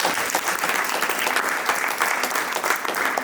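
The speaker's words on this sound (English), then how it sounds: "let's give him another round of applause" A crowd applauds steadily at a community event for Annie Malone Day, a dense continuous wash of clapping throughout with no break.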